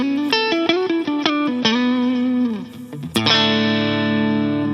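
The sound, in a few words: guitar through Ruby UAFX Vox AC30 pedal, more treble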